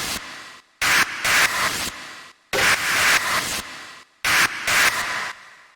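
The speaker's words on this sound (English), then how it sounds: "the last thing that we have inside of this percussion loop is the effects," Noise effects layer from a hard melodic rave techno percussion loop: bursts of harsh static-like white noise in a chopped, repeating rhythm with abrupt gaps, loud and upfront with no voices.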